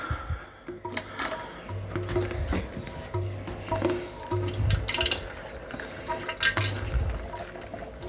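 Home-brewed Woodforde's Wherry amber ale flows out of the brewing vessel with a steady liquid trickle and scattered drips, fairly faint and continuous, with low household background.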